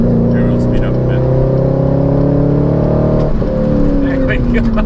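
A 2002 Chevrolet Corvette C5's engine revs up steadily on a highway, its pitch climbing, briefly drops at a gear change, then climbs again, loud and close.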